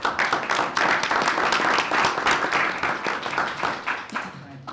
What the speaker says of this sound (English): all of our teachers and our students deserve a round of applause.